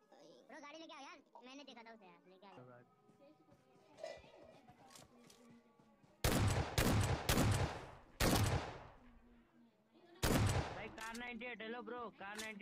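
A series of heavy, booming shotgun blasts in a battle-royale style shooter, separated by short gaps, with someone talking between and around the shots.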